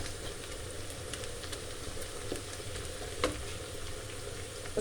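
Onions sizzle steadily in hot oil, frying to light brown for chicken karahi, a constant crackling hiss with a few brief stirring scrapes and clicks.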